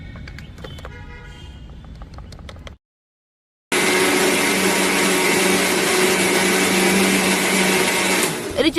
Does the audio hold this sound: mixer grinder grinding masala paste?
yes